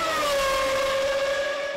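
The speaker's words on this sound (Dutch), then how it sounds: "we sluiten af met het brute geluid van de V12 motor van deze Formule 1 Ferrari" A Formula 1 Ferrari V12 engine holds a brief, loud, high-pitched sustained whine at a racing day event, its tone steady and nearby with no voices.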